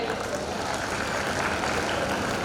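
Audience applause at a formal gathering honouring a guest speaker: dense, steady clapping that holds at an even, fairly loud level throughout.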